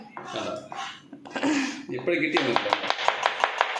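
Onions are chopped with a knife in quick, evenly spaced knocks on a board near the end, after a stretch of talk and clattering.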